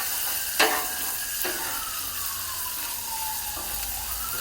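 A ribeye steak sizzles on a Blackstone griddle, cooked well done, giving a steady close hiss with a couple of sharp metallic taps early on.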